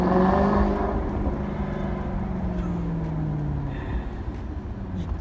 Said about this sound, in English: just to hear that symphony that bellows out from that two amazing oval exhausts